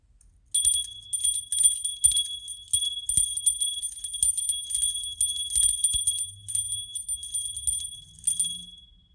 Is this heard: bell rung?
yes